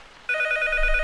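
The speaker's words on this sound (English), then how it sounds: "Or the phone will ring." A telephone bell starts ringing abruptly and rings alone, loud and steady, in the horror game P.T.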